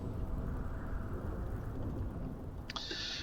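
Viktor's Chaos Storm ability in the League of Legends video game makes a continuous rumbling, crackling roar like a storm, steady and dense, with a sharp bright electric zap breaking through near the end.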